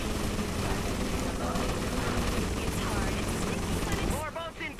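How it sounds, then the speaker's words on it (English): A helicopter in the video game GTA Vice City Stories on PS2 whirs with a loud, steady rotor and engine drone that holds constant, then briefly dips as game sounds break in near the end. "Where is that helicopter?"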